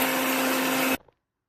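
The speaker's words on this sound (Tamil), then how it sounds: "இப்போ நல்லா ஆறிடுச்சு பாருங்க, மிக்சி ஜாரில் மாற்றியாச்சு. இப்போ நல்லா அரைச்சி எடுத்து வந்துடும்" Electric mixer grinder pulverising roasted green gram and nuts into powder, a loud steady whirring drone that cuts off abruptly, followed by a brief faint rattle as the jar settles.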